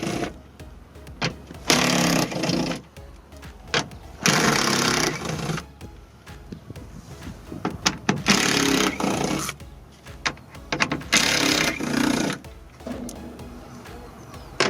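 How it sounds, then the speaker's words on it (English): A 10mm socket tool backs bolts out of a Mazda CX-7 door during exterior handle replacement, making repeated loud whirring bursts of a few seconds each, separated by short pauses. "Now we can go ahead, 10mm socket, and start removing a few bolts."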